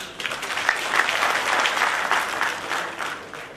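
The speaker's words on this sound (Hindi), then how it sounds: "चलो जीएसटी के लिए एक बार जोरदार तालियां।" An audience breaks into loud, sustained applause at a Hindi-language talk, a dense crowd of clapping hands that swells early and holds steady before tapering slightly toward the end.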